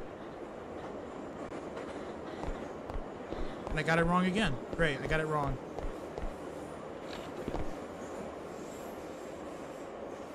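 Train running on rails in a video game, a continuous rolling rumble with rhythmic clicks from the wheels and a brief squeal, while a person talks over it.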